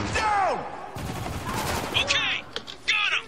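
Gunfire in the video game Spec Ops: The Line: several sharp shots and short bursts ring out at close range, with combat shouts and voices between them.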